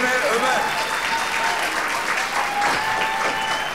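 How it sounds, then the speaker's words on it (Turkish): An audience applauds an engaged couple in a TV studio setting, with a steady, dense clapping wash lasting throughout and voices talking faintly underneath. "O yüzden onlar için çok büyük bir alkış istiyorum."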